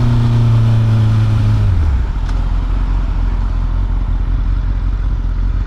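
A 2017 Honda CBR 1000 SP2 motorcycle with an up-down quick shifter, heard as a loud rising engine whine that cuts off sharply at a shift and drops into a steady close, heavy engine and wind roar.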